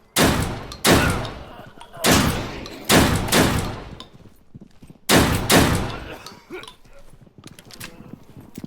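Gunfire in the survival shooter game Deadside: five or six loud bursts of shots cut in close together, each decaying into a rumbling echo, followed by quieter scattered noise.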